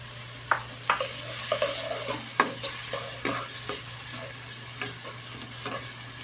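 Tomatoes sautéed in a pan for sopas, a steady oily sizzle broken by repeated sharp scrapes and clacks of a utensil stirring, with no voices.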